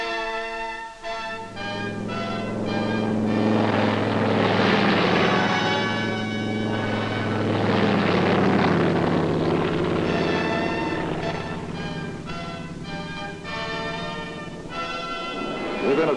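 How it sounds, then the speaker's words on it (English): Chinese Air Force aircraft fly over a paratroop drop zone in Taiwan. Propeller engines drone loudly in a sustained, steady hum that swells and eases slightly. "Within a few minutes, aircraft of the Chinese Air Force arrive over the primary drop zone."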